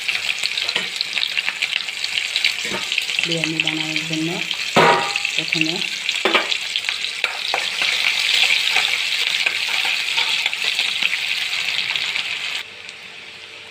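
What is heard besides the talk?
onions frying in oil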